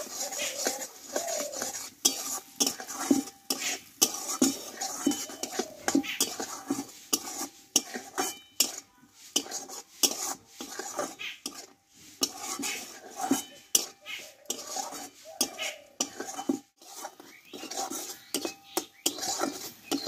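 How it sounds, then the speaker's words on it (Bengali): Cumin and coriander powder being stirred and fried in a pan for a vegetarian okra dish, with busy metallic scraping and clinking of a spoon against the pan, continuous and close, with faint sizzling beneath. "এই মশলাটা একসঙ্গে ভালোভাবে কষিয়ে নেব।"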